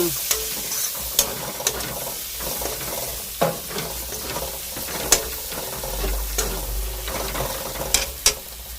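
Tomatoes fry in a pan with chili powder while a spoon stirs them, producing a continuous close sizzle broken by sharp scraping strokes and clacks against the pan at irregular intervals, with no talk.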